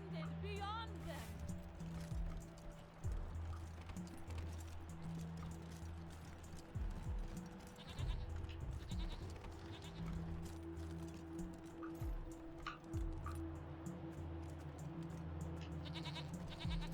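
A mountain goat bleats in the video game Wasteland 3, with short bleats mixed into steady in-game ambience and a voice talking over much of it.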